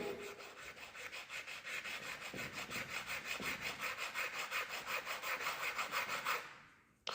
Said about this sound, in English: we will clean the surface by this stone piece